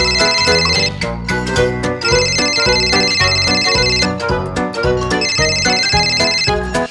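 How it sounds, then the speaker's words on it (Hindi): A bright electronic phone ringtone plays a repeating melodic tune loudly and continuously, looping its phrase several times with no voices. "मेरा फोन बज रहा है"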